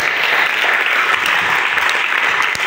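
A church congregation at a retreat claps and cheers for Jesus, dense continuous applause filling the space at steady loudness from start to finish with no speech over it.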